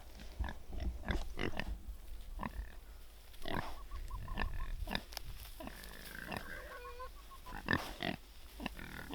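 Farm pigs kept apart from a boar grunt and snort repeatedly in irregular bursts, close and fairly loud, with rustling straw around them.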